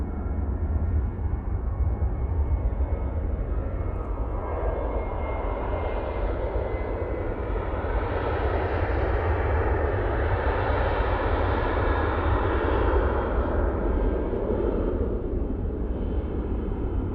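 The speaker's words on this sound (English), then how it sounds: "That Ryanair was off, well, is off to Copenhagen." A Ryanair jet departs Manchester Airport bound for Copenhagen, a loud, broad rumbling roar that builds and holds for the whole stretch with no voices over it.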